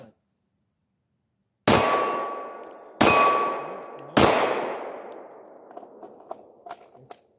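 Three sharp pistol shots, roughly a second apart, ring off steel targets with metallic clangs that decay slowly, followed by faint scattered clicks and knocks.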